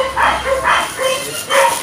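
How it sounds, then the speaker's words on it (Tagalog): Dogs bark in a short series of loud, close barks, three or four sharp calls spaced about half a second apart. "Ang ingay ng mga aso dito."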